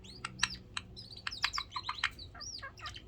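Rapid, close chirps and twittering whistles come from a yellow budgie in a quick, busy run of short calls over a quiet indoor background.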